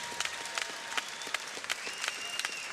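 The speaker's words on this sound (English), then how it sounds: "let's get a big round of applause for these two warriors" Steady applause from a fight crowd in Mesa, California, ringing out after a six-round boxing bout between two fighters, dense clapping with faint whistles and crowd noise carrying throughout.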